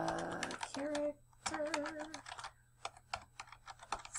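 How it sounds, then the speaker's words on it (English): Quick bursts of keystrokes on a computer keyboard, clustered taps separated by short pauses, fairly quiet and close, with a brief murmur of voice near the start. "we are going to start to type a sentence"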